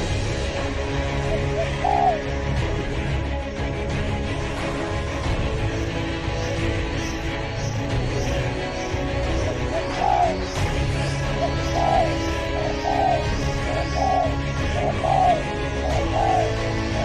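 Soft repeated coos of a pigeon or dove, several short calls spaced irregularly over steady background noise, moderately close.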